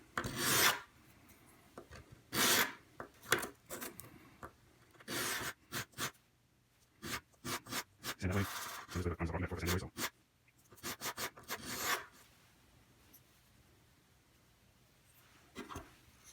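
A wooden tenor guitar part being sanded by hand with 220 grit sandpaper, quiet close rasping strokes in irregular bursts with pauses between them.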